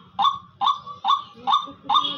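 A hunting decoy bird, kept to lure wild birds, gives five loud, close goose-like honking calls in a steady rhythm, each a short nasal blast spaced about half a second apart.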